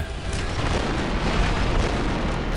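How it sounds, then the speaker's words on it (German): Continuous rumbling explosions in the video game Star Wars: Republic Commando, dense and loud, with booming blasts rolling together without pause. "Es explodiert da unten alles."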